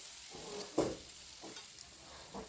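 Chopped onions sizzle in hot oil in a pan as a spoon stirs them in a few scraping strokes, with a soft steady frying hiss underneath, quiet and close.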